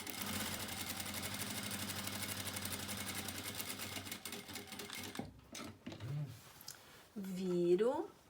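A sewing machine stitches a fabric placemat in a fast, steady whirring run for about five seconds, then stops; a voice follows, speaking close by.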